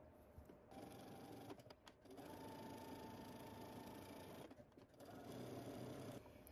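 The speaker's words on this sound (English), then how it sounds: "I'm going to start stitching close to the edge, but I'm going to stitch on my right side." A sewing machine stitches a narrow hem close to the fabric edge, running as a close, steady motor hum with brief dips where the stitching pauses.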